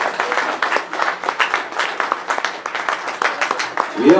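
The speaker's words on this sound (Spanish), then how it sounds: "El aplauso es para Cristo. Déjalo fuerte." A congregation at a church worship service claps steadily and warmly, many hands blending into continuous applause at a moderate, even level.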